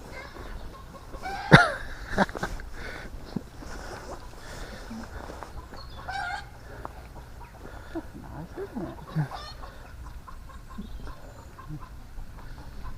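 Chickens cluck in bursts, with one sharp squawk early on, over quiet background chatter and ambient noise.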